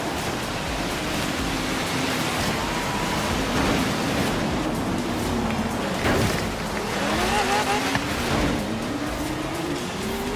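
An old barn-find car races in Forza Horizon 3 during snowy Blizzard Mountain events, its engine note rising and falling through gear shifts under steady wind-like noise, with no talking.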